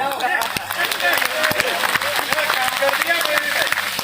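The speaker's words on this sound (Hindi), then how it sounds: "तालियां बजाओ।" Applause from the crowd at an Independence Day poetry gathering (kavi sammelan), a short burst of rhythmic clapping mixed with voices, close and fairly loud.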